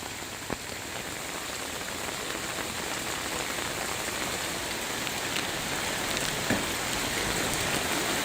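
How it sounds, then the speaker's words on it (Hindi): Steady, heavy rain pours onto a waterlogged main-market street in Kashipur, a dense continuous hiss of drops splashing on standing water, with no voices. "तो काशीपुर में लगातार बारिश हो रही है"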